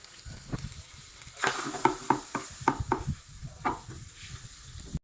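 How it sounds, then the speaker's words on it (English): 125 ml of butter melts in a hot pan, giving a soft sizzle with repeated scraping stirs and clinks of a utensil against the pan. "I'll be melting my 125 ml of butter in a hot pan"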